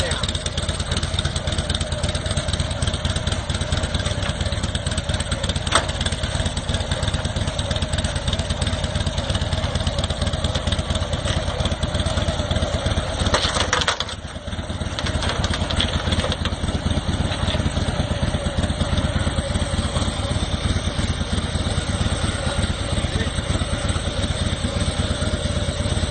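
A motorcycle rolls down a Loadall motorcycle ramp, its engine idling in a steady, continuous drone throughout, with a brief dip partway through.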